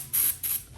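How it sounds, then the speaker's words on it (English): Two short hissing bursts of aerosol brake cleaner sprayed into a GMC motorhome rear wheel bearing area, close by, each lasting a fraction of a second with a brief pause between. "So I like to spray it in, kind of let it pool up in the bottom."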